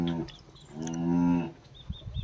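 A cow moos at feeding time on a village farm while fodder is put out for it: a short low call, then a longer, louder drawn-out moo, followed by faint rustling and a few soft knocks.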